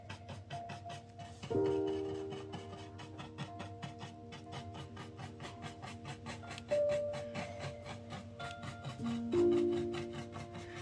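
Brush strokes spreading dark wax over chalk-painted furniture moldings, a steady rhythmic rasping and rubbing close by, with a few brief tonal squeaks between strokes.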